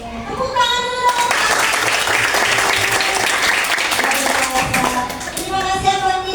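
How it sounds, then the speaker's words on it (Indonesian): Students in a classroom clap their hands together, a loud sustained burst of many hands with children's voices mixed in, rising quickly and tapering near the end. "Tepuk tangan dulu."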